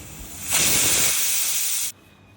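A pressure cooker holding potato, carrot, papaya and chicken lets out a single loud burst of hissing steam that lasts under two seconds, then cuts off sharply.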